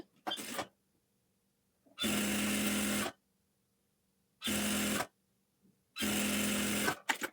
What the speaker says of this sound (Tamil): இந்த மாதிரி மடித்து தையல் போட்டுக்குங்க